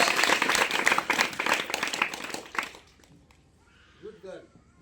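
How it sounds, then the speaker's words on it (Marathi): Children at a Diwali celebration clap loudly and rapidly, the burst fading out after about three seconds into near silence, followed by a brief voice. "जोरात वाजवा टाळ्या, जोरात"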